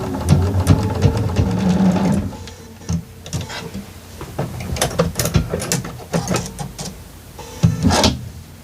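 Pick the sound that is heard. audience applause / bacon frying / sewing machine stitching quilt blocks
sewing machine stitching quilt blocks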